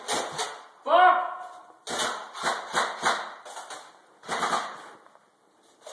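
Airsoft guns fire in sharp snapping bursts of several shots at an outdoor skirmish, close and crisp, with people shouting between and over the volleys.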